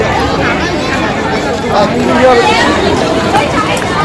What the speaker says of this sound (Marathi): गर्दी खूप आहे खूप गर्दी